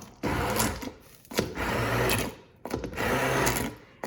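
Immersion blender whirring on low speed in a home kitchen while making lasagne, run in three separate pulses of roughly a second each with short pauses between.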